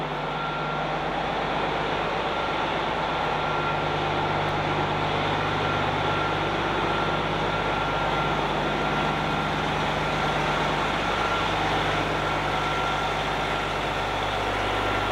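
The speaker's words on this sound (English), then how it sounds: "I sure do love the sound of this bus." A converted bus used as a DIY luxury motorhome idles with a constant low diesel rumble and steady hum, loud and close, without pause throughout.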